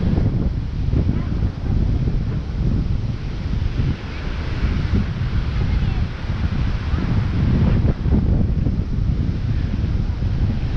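Strong wind buffets the microphone at a cloudy beach, with surf rolling underneath in a constant loud roar that never lets up.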